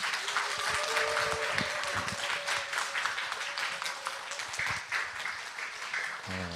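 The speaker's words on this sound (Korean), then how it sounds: "우리 뜨거운 박수로 목사님을 맞이하겠습니다" A church congregation at a special Friday night service gives the pastor warm applause, a dense and sustained clapping that fills the room and fades slightly toward the end, with a faint tonal hum beneath.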